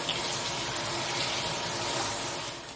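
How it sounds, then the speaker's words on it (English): Tap water runs steadily into a kitchen sink as hands are washed under it, a close continuous splashing rush that fades slightly at the end. "Let me wash my hands and I'll be right back."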